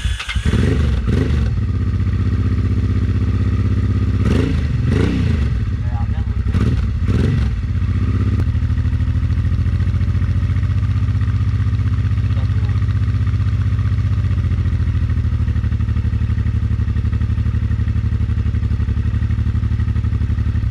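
A Honda Transalp 600 motorcycle engine, freshly swapped in, settles into a loud, steady close-up idle after a few rough revving bursts at the start, with voices talking over the opening seconds.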